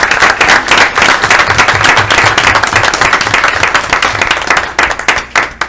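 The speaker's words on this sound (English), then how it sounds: "big round of applause for all these individuals" Audience applause at a school board meeting for honored individuals, a loud sustained round of dense clapping from the room that thins slightly toward the end.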